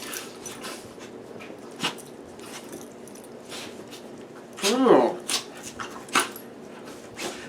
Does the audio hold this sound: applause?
no